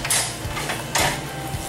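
Locking rods slide and latch into place on an RZ RT3 remote and ride-on floor grinding machine, giving two short metallic clacks with faint ratcheting between them, close up with no one talking.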